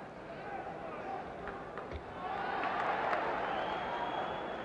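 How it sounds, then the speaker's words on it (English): A boxing arena crowd gives Floyd Patterson a warm ovation during his bout with Oscar Bonavena, a steady wash of applause and cheering that swells partway through, with a commentator's voice over it. "Patterson should be inspired by the ovation he got here tonight"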